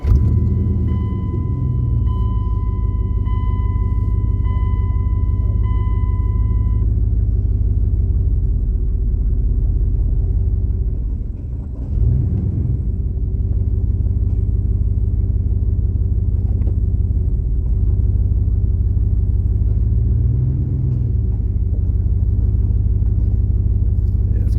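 A Dodge Challenger is rolled down off a trailer while unloading, its low steady rumble and faint clatter continuing throughout with brief thumps as the tires come down; a constant tone sounds in the first seven seconds.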